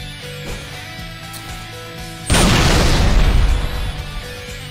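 Plasma grenade detonation in the video game Halo Reach, a single loud booming blast that erupts suddenly after quiet ambience and rolls on, decaying over the next couple of seconds.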